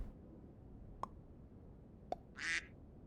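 A single short duck quack sound effect from a video game pops up near the end, preceded by two sharp clicks in an otherwise quiet background.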